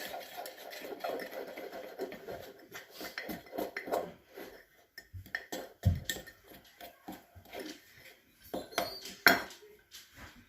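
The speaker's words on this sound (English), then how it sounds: "Okay, we're going to mix that in again." A spoon clatters and scrapes against a mug while mug cookie batter is stirred, a busy run of repeated clinks and knocks of varying loudness with no talking.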